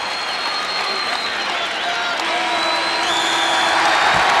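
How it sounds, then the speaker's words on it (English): Crowd at a collegiate wrestling match in Hilton Coliseum roaring loudly and continuously, a dense wash of cheering and applause that swells toward the end. "Big roar from the crowd at Hilton Coliseum"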